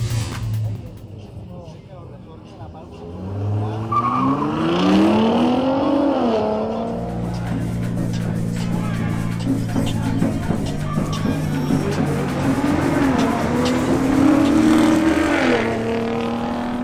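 BMW X6 M50i SUV accelerating hard on a drag strip, its engine note climbing through rising pitch sweeps and gear changes over about fifteen seconds, with a voice talking throughout.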